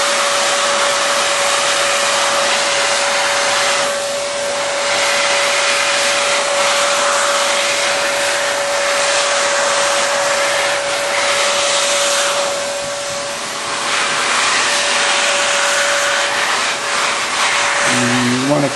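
Heat gun blowing steadily on heat-shrink tubing during a PRT installation, producing a loud, constant whooshing roar with a faint whine that runs for nearly twenty seconds and briefly dips, with no talk.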